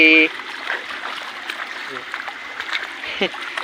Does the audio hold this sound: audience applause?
no